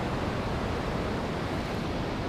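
Ocean waves wash onto the shore in a continuous, even roar of surf with no distinct individual breaks, a dense steady rush and no voices.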